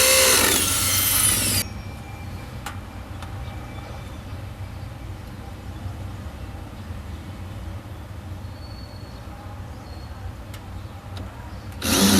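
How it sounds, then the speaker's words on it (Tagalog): Power drill boring holes into cement while mounting a solar light: a loud, harsh grinding burst at the start, a quieter stretch with a low hum, then another loud burst at the very end. No talking. "bubutasan na natin doon guys sa may semento"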